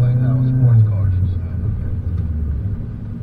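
Car engine fitted with an upgraded throttle body gives a short, deep rev that falls back to a low rumbling idle, close by, with people talking over it.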